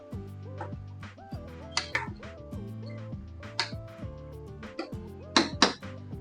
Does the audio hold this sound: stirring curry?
yes